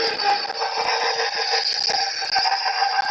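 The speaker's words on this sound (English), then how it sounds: "The noise you are hearing is the stand mixer." A steady, loud mechanical whir with a faint rattle runs without a break, a stand mixer motor running continuously with no talking.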